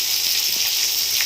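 Garlic dropped into a hot frying pan for a vegetarian meal, a dense close hiss of sizzling that holds steady through the brief moment without any voices.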